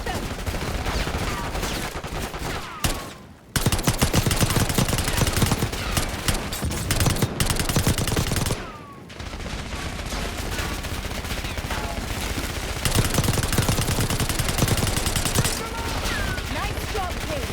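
Sustained video game gunfire from a Black Ops 6 campaign mission, dense rapid automatic bursts and shots running almost continuously and loudly, with brief pauses and shouted voices mixed into the combat.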